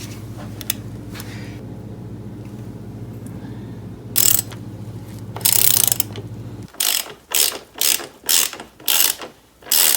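A ratchet loosens the front axle on a Yamaha XSR700 motorcycle, its close clicking pawl heard in a few scattered strokes and then a quicker run of regular pulls near the end, with a low hum beneath until midway.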